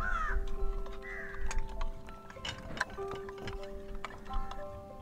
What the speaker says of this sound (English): There are lots of crows around.